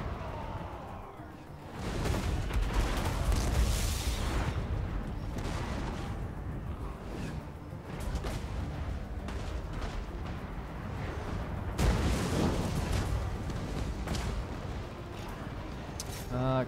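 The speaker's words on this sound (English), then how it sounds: "let's get that Queen Bess firing up on these guys as well" The Queen Bess artillery piece firing in Total War: Warhammer II, with Sotek dwarf forces in a siege battle: heavy booming shots and battlefield din, with a player talking over the noise.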